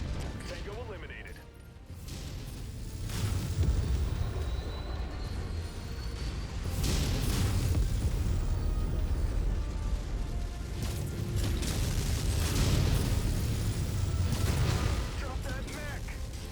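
Mech explosions in the MechWarrior 5: Mercenaries video game, heavy booming blasts and rumbling combat noise rolling on continuously and loudly, with occasional radio-style voice lines over the top.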